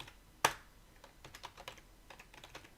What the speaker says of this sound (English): this is really the only time I'm going to be typing much of anything